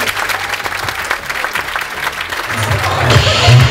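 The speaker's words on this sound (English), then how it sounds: "So if you give a round of applause for Ava." A fundraiser audience applauds, loud close clapping from many hands that runs continuously and grows slightly fuller toward the end, with some crowd voices mixed in.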